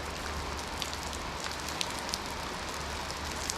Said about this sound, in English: this rain is just ridiculous